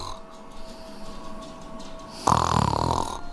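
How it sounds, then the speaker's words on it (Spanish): A sleeping woman snoring, a low raspy breath that swells into a louder, harsher snore near the end, heard close up with no talk. "¿qué haces roncando?"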